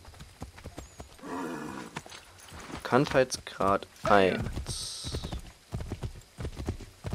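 Horse hooves clip-clopping in Assassin's Creed III, a steady trotting rhythm near and moderately loud, with someone talking over it in places and a brief whinny-like burst.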